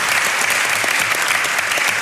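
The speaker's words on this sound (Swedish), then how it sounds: "Ja, ja, det är värt en applåd." An audience at a comedy roast breaks into dense, continuous applause, many hands clapping loudly and evenly throughout.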